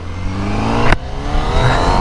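A 217 hp Honda CBR1000RR-R Fireblade accelerates hard on a road, its engine note climbing loud and close with a brief gear-change break before rising again.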